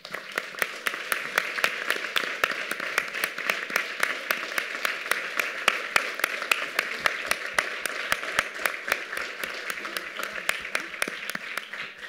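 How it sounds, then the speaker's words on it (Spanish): Steady, moderately sized audience applause at a film presentation, individual claps clearly distinct and evenly sustained for about twelve seconds, heard from a moderate distance. "un aplauso para ella"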